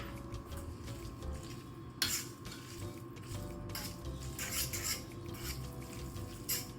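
Fettuccine being mixed with baked feta in a baking dish, heard as soft scraping and clinking of a utensil against the dish with a few sharper knocks, quiet and close, with no voices.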